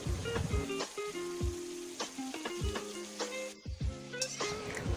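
Ginger-garlic paste with salt and turmeric sizzles loudly in a hot pan, with spoon scrapes and stirring clatter breaking through the steady frying hiss.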